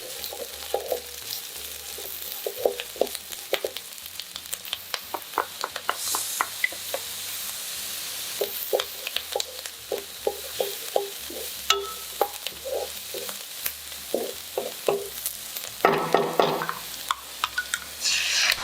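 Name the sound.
onion and crushed garlic sautéing in butter in a pan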